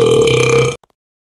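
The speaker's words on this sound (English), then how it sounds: "Boy, that's a huge burp." A huge, loud burp in the Roblox game Escape Evil Grandpa holds a sustained, rumbling belch for most of a second, then cuts off abruptly into near silence.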